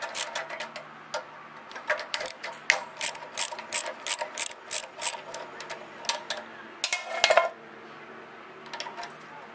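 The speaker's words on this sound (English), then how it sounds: "So we'll take the carburetor off." Ratchet wrench loosening the 3/8 carburetor bolts on a Briggs & Stratton small engine, making close, crisp bursts of rapid clicking in repeated strokes, then a brief metallic clatter, with no speech.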